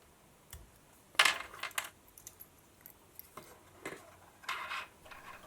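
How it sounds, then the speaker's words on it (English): Small metallic clicks, taps and rattles as a helper socket is pulled from a 486 PCB, a few sharp bursts scattered over quiet background, close and faint. "Now we can remove our helper socket."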